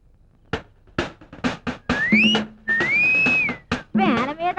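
Someone whistles a tune close by, in short bright bursts and long gliding notes that rise and bend in pitch, with brief pauses between phrases.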